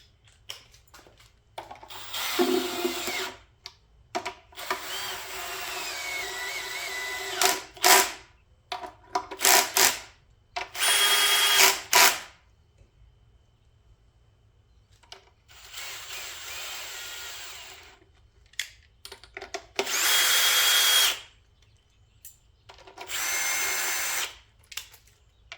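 A power tool tightens bolts on a Perkins D3.152 engine being assembled, whirring loudly and close in repeated short bursts of a second or two, with quiet gaps between each run.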